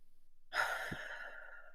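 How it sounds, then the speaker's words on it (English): A single slow, relaxed breath starts after a brief silence, drawn in softly and released in a long, gentle sigh through the mouth. It is close and quiet, with no talking. "Just inhale slowly through your nose and exhale through your mouth"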